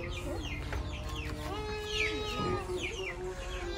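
Chickens clucking and roosters calling close by while the birds are handled and moved into a box, a busy overlapping chorus of clucks and squawks.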